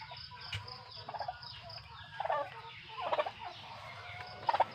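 Several turkeys gobble in repeated bursts, moderately close, over a steady low background hum.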